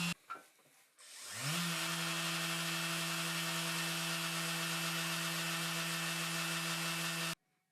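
A Metabo or Mirka Deros random orbital sander soft-starts with a rising whine, then holds a steady, even electric hum for several seconds before cutting off abruptly.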